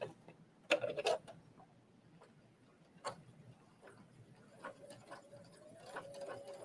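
A home sewing machine runs slowly under light pedal pressure while stitching around the curved collar of a trench coat, giving an uneven ticking patter with a few louder clacks, then a soft steady whir near the end.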